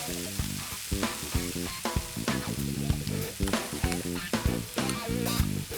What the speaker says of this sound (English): I'm gonna actually add my flour right into this and let this roux develop as I cook down these veggies